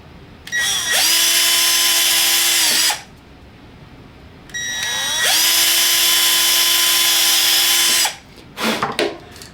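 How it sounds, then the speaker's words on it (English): Power drill boring small thin holes into an arborist helmet bracket: two loud, steady high whining runs of a few seconds each, separated by a quiet pause, followed by brief clicks and handling noise. "what I did is that I drilled two little thin holes into the bracket"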